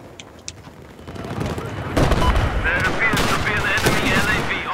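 Sniper and automatic gunfire in Battlefield 4 on PS4, loud rapid bursts and cracks building into sustained heavy firing, with a player talking over it.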